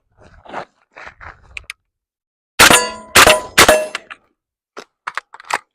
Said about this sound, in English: So there's our mag drop.